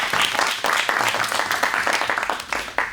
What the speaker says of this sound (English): Nice round of applause for this young man